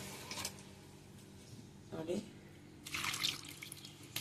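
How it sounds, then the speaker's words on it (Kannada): Water is poured into a cooking pot of amaranth greens sambar in a home kitchen, with short, faint splashing bursts against a quiet room background. "ನೀರು ಹಾಕುವ ಸ್ವಲ್ಪ ಕಡಿಮೆನೇ ನೀರು ಹಾಕ್ಬೋದು"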